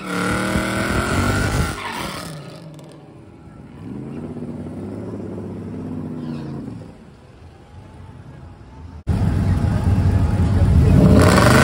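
A race car on a test pass, engine revving loudly before a shift, then a quieter rising whine under a voice, ending in a loud roaring acceleration.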